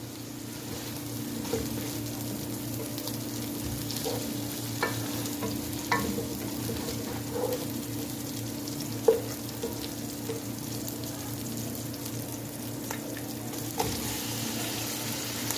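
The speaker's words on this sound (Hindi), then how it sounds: "टमाटर ऐड करेंगे और फिर इसकी अच्छे से भुनाई करेंगे ताकि टमाटर जो है वो प्रॉपर्ली कुक हो जाए।" Tomatoes sautéing for a goat trotter (mutton paya) curry fill the pan with a continuous low sizzle and hum, broken by occasional soft scrapes and one sharp clink of a stirring spoon.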